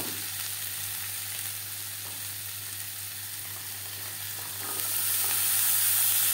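Potatoes sizzle and fry steadily in a pan as turmeric and salt are stirred through them for a cabbage curry, a continuous close hiss that grows louder near the end, with no talking.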